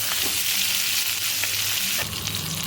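Food fries steadily in a pan until reddish, a dense, even sizzle and crackle throughout, with a slight shift in texture near the end and no speech.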